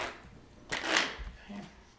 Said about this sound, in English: We'll give them a couple cuts, and I'll give them another shuffle.